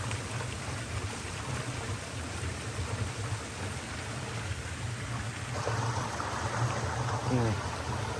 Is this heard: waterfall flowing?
yes